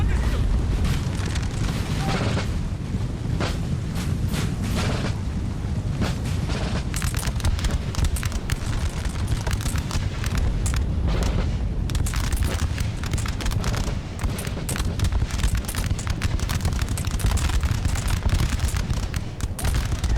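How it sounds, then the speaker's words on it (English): Dense volleys of musket fire and booming cannon in a 3v3 Napoleonic battle in Napoleon Total War, a continuous loud barrage of cracks and rumbling blasts with no pauses. "Let's see if they can get some shots off."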